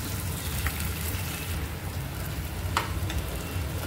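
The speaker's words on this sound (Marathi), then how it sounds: "आणि हा मसाला इतका भाजायचा की कढईच्या साईडला तेल आलं पाहिजे." Masala frying in oil in a kadhai, a steady close sizzle with a few brief scraping clicks, no voices.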